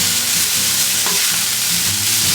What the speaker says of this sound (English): And we're gonna stir.